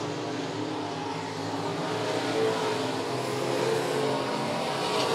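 USRA B modified race cars running a heat race at Monett Motor Speedway, a steady loud roar of several engines revving on the dirt oval, sustained and continuous with no talk over it.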